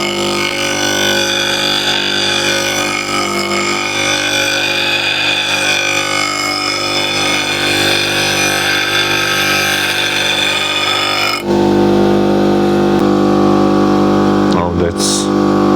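Record Power RSBG8 bench grinder with 100 and 36 grit wheels running steadily with a loud, tonal whine, then switching off and spooling down near the end, with a brief clatter at the finish.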